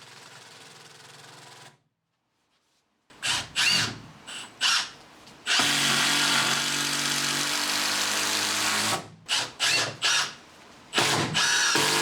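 Power drill driving 4-inch screws through 2x2 timber for a truck bed load extender: loud, close motor whirring in short bursts and one long sustained run, separated by pauses and silence.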